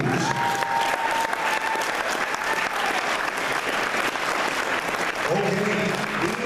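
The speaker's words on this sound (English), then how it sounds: "let's give them another round of applause" Audience at a gala applauding with sustained, dense clapping throughout, with a voice speaking briefly over it near the start and again at the end.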